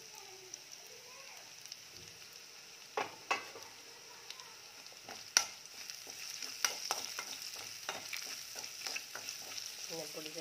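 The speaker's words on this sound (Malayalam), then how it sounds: "ഇതിലേക്ക് നമുക്ക് മഞ്ഞൾപ്പൊടിയും ഗരം മസാലയും ചേർത്ത് കൊടുക്കാം." Sprouted chickpeas fry with turmeric and garam masala while a spoon stirs them. Faint crackling runs under intermittent scrapes and taps of the utensil against the pan, and the frying grows busier toward the end.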